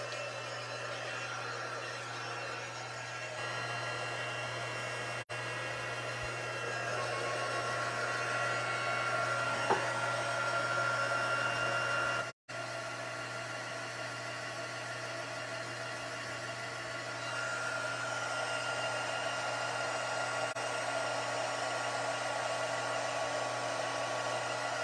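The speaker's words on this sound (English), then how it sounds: "So I'm going to turn on the heat tool." A papercrafting heat tool blows steadily for about twenty-five seconds while heat-setting embossing powder, giving a loud continuous whirring hum with a brief cutout midway and a slight shift in pitch as it moves.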